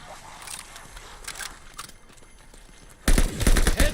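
Gunfire at zombies in Call of Duty Vanguard Zombies, Der Anfang map: muffled scattered shots at first, then a loud, rapid burst of close firing in the final second.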